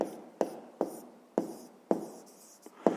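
A pen scratches on paper during a fifth-grade math exercise: short, crisp strokes, about seven of them, spaced at an even rhythm and heard close up with no talking.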